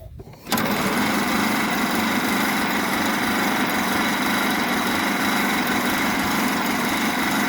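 A 1927 Pirsch fire truck engine catches after a brief quiet start and then runs steadily and loudly, a dense, even mechanical roar with a high-pitched rattle that carries on without letup.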